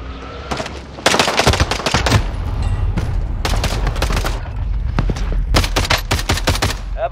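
Rapid automatic gunfire in the Warzone video game, loud and close, coming in several sustained bursts of dense shots with brief gaps between them and no talking.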